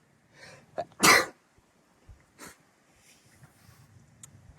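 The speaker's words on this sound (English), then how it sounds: "Sorry, I had to sneeze." A single sharp sneeze bursts out near the start, preceded by a quick breath and followed by faint sniffs and small rustles in an otherwise quiet room.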